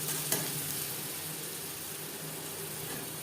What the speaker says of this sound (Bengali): এভাবে নাড়াচাড়া করে ড্রাই করে দেবো যতক্ষণ না পর্যন্ত কড়াই থেকে ছেড়ে আসছে।